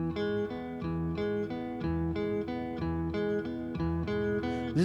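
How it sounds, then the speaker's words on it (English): Three-note major chord played on guitar, each note sounding in turn with repeated plucked attacks and ringing harmonics, close and clear with no talking. "This is the sound of a major"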